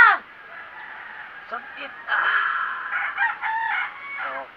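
Near a rural home, a rooster crows loudly and close among other chickens' clucks, with a few words spoken as it begins.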